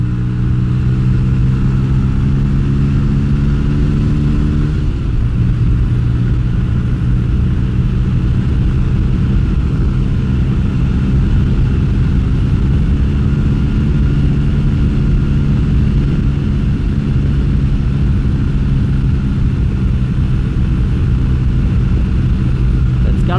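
A budget bobber motorcycle with a retuned carburettor and modified carb slides rolls on the throttle in third gear, its engine note climbing steadily and loud, with a clear gear-change dip near five seconds, continuous and close throughout.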